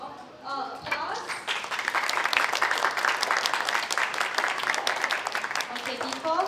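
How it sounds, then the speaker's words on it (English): Audience applause at the close of an indoor fireside chat discussion, a steady dense clapping that swells after a brief start and holds loud and continuous to the end, with a few voices mixed in. "Another big round of applause."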